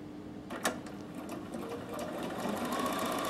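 A Bernina 7 Series sewing machine stitches a buttonhole, its motor whirring steadily and growing slightly louder, with a few sharp mechanical clicks near the start and no speech.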